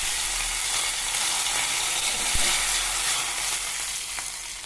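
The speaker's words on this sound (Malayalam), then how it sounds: "ഇതാ കടുക് നമുക്ക് ഇതിലേക്ക് ഇട്ട് കൊടുക്കാം. നല്ലോണം കടുക് പൊട്ടിത്തെറിക്കട്ടെ." Mustard seeds splutter and crackle in hot oil in a pan while tempering for a cucumber curry, giving a continuous loud sizzle with a few sharper pops standing out, close up and with no talking.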